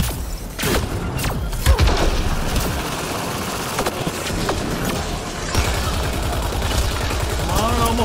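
Gunfire in the sci-fi shooter Mass Effect Andromeda, rapid bursts of shots and heavy thumps crowding together in a loud, continuous firefight, with a voice briefly heard near the end.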